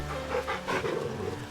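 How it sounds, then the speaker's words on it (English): A big dog being petted in Final Fantasy XVI pants in quick, breathy puffs, close and moderately loud, over a low background hum. "Look how big this dog is."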